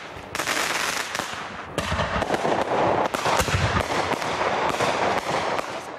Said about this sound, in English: With the Independence Day fireworks in full swing